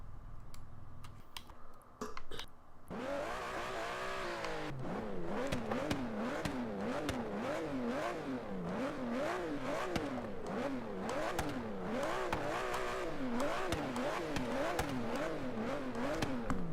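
Aston Martin Vantage GT12 engine in Forza Horizon 3, naturally aspirated, revving in repeated rising and falling sweeps during drifting, loud and continuous after a few seconds of quieter keyboard-like clicks at the start.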